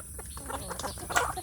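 Brooding village hen clucking softly up close, a run of short low clucks and murmurs in irregular rhythm, fairly faint and alone.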